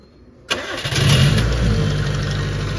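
A Nissan B13 with ECCS injection, freshly fitted with new injectors, cranks briefly and fires, then settles into a loud, steady idle close by with no talking.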